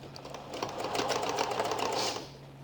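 A sewing machine stitching fabric runs in a steady, close, continuous whir-and-rattle for a few seconds with no voices over it.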